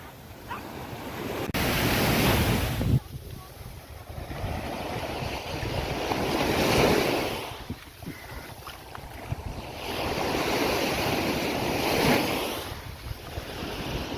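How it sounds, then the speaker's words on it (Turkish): Waves roll in and wash up on a Corsican beach at sunset, arriving as several broad surges with wind buffeting the microphone. The sound stays moderately loud and close with no speech. "Şimdi sahilde Korsika'nın çok güzel bir sahili."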